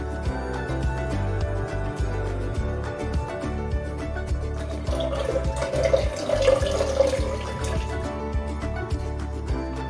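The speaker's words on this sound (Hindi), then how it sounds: "ये थोड़ा थिक है तो इसमें हम करीब 1/2 कप पानी डाल देते हैं।" About half a cup of water is poured into thick, strained homemade tomato soup, a soft trickling and dripping splash beneath steady background music, fairly quiet and continuous.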